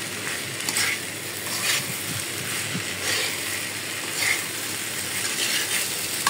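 Vegetable bhaji with coriander leaves frying in a pan, a steady close sizzle with occasional scraping stirs and light clinks, no voices.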